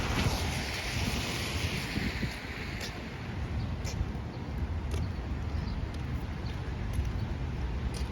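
Strong gusting wind on a rainy walk in Queens, New York, a loud continuous roar buffeting the microphone, with faint rain patter underneath.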